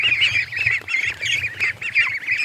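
A group of newly hatched ducklings sends out rapid, continuous high peeping with short breaks, close and loud, with no talking over it.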